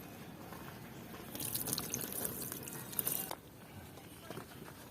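Leaves being washed in water, with a brief burst of splashing and pouring for a couple of seconds in the middle over a faint, quiet background.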